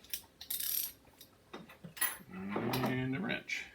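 A ratchet is grabbed from a pile of metal tools while working on a Snapper rear-engine rider, giving a few light metallic clicks and clatters close by, with a voice nearby.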